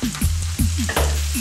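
Spinach stir-fried in a hot pan with mixed greens, a loud, close sizzle broken by rhythmic scraping and tossing strokes about every few tenths of a second.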